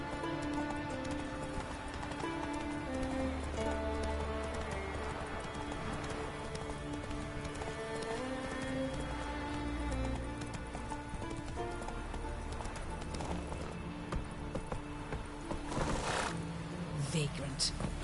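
Roach the horse galloping in The Witcher 3: steady rhythmic hoofbeats at close range under game music and ambience, continuing throughout with an occasional snort or whinny near the end.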